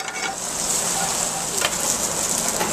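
Garlic, Italian pancetta and white and red pearl onions sizzle loudly and steadily in a hot pan, a dense, continuous crackle with a few brighter pops.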